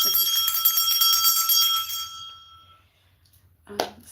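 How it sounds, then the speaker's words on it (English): A single bell rings out bright and sustained, its shimmering tone slowly decaying over a couple of seconds in a quiet room, followed by a brief soft knock near the end. "we ring the bell to disperse any negative energy"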